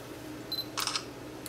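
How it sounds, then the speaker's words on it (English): Motion-triggered security camera's shutter firing as a hand passes in front of it, a short tone followed by a cluster of quick mechanical clicks, then one more click at the end, close and fairly quiet against a faint background hiss. "If you'll listen closely, you'll hear the shutter go off when I move my hand in front of the camera."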